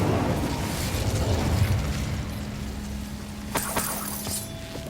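A fire spell cast in Hogwarts Legacy: a dense, roaring whoosh of magical flame sustained through the clip, with a low steady hum beneath and a few sharp crackling bursts near the end.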